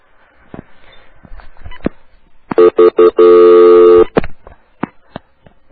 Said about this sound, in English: What is going on with my phone?